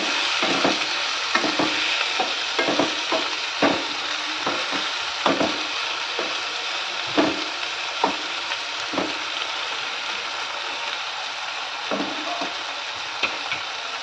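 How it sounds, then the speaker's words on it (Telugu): Tomato pieces stirred into frying onions for tomato rice: a continuous sizzle broken by a steady run of sharp spatula knocks and scrapes against the pan, close and fairly loud. "టమాటోలు వేసిన తర్వాత ఇలా ఒకసారి బాగా కలుపుకోవాలి."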